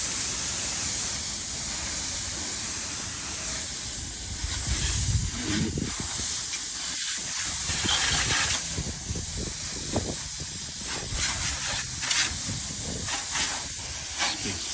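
A hose sprays water in a steady loud hiss while a second-hand car is washed at home in a backyard, the rushing spray continuing for the whole stretch with small shifts as the stream moves.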